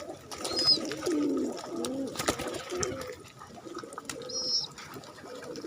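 A pigeon coos in soft, low, rolling phrases close by, with a couple of brief high chirps from young pigeons in between and light background noise.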